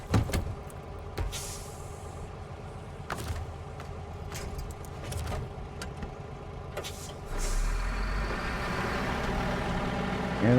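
A Paystar truck engine drives in SnowRunner, a steady engine drone under scattered clanks and hisses, with a louder low rumble swelling near the end.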